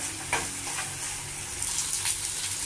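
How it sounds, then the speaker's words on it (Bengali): Ridge gourd paste fries on low to medium heat, producing a dense, even sizzle close by, with a few brief stirring scrapes rising out of the hiss. "এইভাবে লো টু মিডিয়ামে ভাজা হতে থাকুক।"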